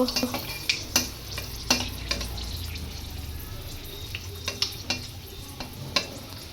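Mung dal khichdi being stirred in a big pot, a spoon scraping and clacking against the metal in a steady series of sharp taps over a low simmering bed of sound.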